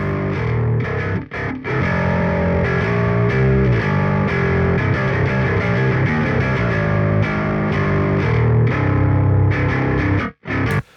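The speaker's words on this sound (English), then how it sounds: "classic Marshall high gain for bass tracks. Sounds like this." A heavily distorted bass guitar through a high-gain Marshall amp simulation plays a gritty, sustained metal riff, loud and dense, with a short break near the end.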